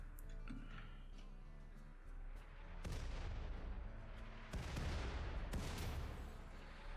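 A few bursts of gunfire from colonists in RimWorld sound at sharp moments, with heavy booming blasts later that build into a louder rumble. Faint background noise sits between the shots.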